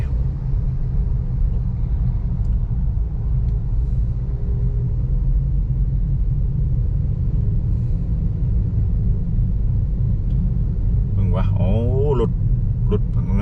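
A van and cars travel along Highway 348 in Sa Kaeo, Thailand. A loud, continuous engine and road rumble is heard from inside a moving vehicle while someone talks over it.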